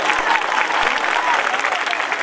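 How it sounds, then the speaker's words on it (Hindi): An audience at a Ramlila stage performance in Azadpur breaks into dense, continuous clapping, loud and close, filling the whole moment. "ताली तो बजा दो यार"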